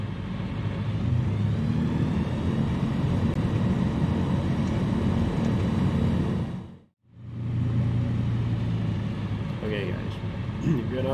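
Airplane taxiing in Microsoft Flight Simulator, a steady low engine drone and rumble that cuts out briefly midway and then resumes just as loud.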